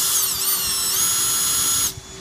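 A power drill whines at high pitch for about two seconds as it tightens a clamp on a rainwater harvesting unit, then cuts off abruptly.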